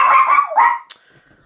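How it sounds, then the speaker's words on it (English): A dog gives two quick, high barks close by, followed by near silence. "That's enough noise. No more barking."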